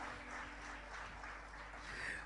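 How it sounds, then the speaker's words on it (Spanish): Church congregation applauds together, a faint, even wash of many hands clapping with a low hum underneath. "a la palabra de Dios le damos un fuerte aplauso"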